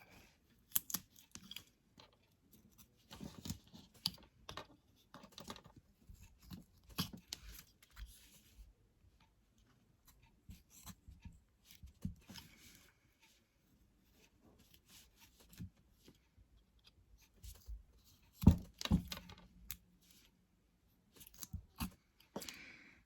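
Knife carving wood, cutting up to a stop cut: quiet, close scraping and slicing strokes come in irregular bursts with pauses, and a sharper knock near the end.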